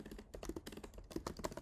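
Quick, irregular keystrokes patter on a computer keyboard, faint and close, a continuous burst of typing with no voice over it.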